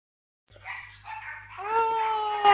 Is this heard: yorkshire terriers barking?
yes